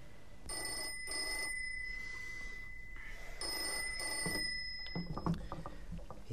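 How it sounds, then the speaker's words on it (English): An old telephone bell rings in repeated double bursts across a quiet room, fairly close and clear, with no talking; the scene is a 1958 film. "It's the bloody phone."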